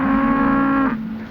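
Cattle moo on a dusty western cattle-drive trail: one long, loud, sustained low bellow close by, trailing off near the end, with no talk over it.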